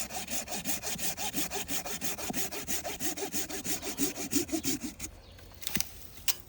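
A hand saw cuts through an almond tree branch in steady, rhythmic back-and-forth rasping strokes, close and loud, ending with a few scattered scrapes.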